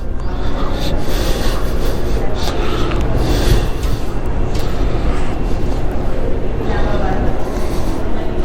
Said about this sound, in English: So this is the Metro Red Line subway.